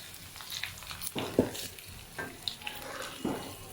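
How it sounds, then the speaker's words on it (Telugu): Mutton pieces coated in masala fry on a low flame, laid out separately in the pan, giving a soft, steady sizzle punctuated by occasional light pops and scraping clicks, close and fairly quiet. "వీటిని ఒక త్రీ ఫోర్ మినిట్స్ కొద్దిగా లో ఫ్లేమ్లోనే వేయించుకోండి"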